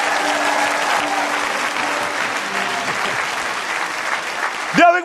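Church congregation applauds in a sustained, dense wash of clapping at moderate distance, with a sung or spoken tone briefly audible beneath and a louder burst near the end.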